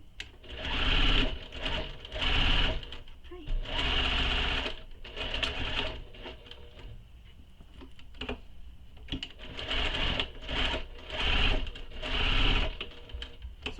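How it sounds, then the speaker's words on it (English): Sewing machine stitching a handbag and backstitching off the fabric edge, running in several short bursts of rapid whirring with brief pauses between, close and clear with no talk. "So I'm where I want to leave the opening, and I just backstitch off the edge."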